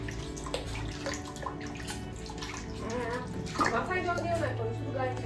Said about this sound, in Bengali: কত জল ঘাটছি